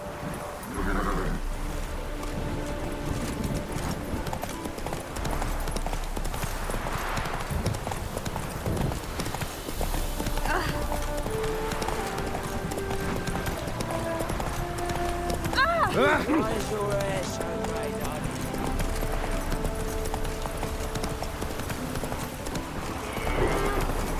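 Hooves of the horse Roach clip-clopping in a steady galloping rhythm in The Witcher 3 video game, close and continuous beneath a voice, music and game effects.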